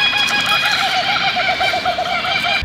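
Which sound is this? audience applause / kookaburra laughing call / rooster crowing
kookaburra laughing call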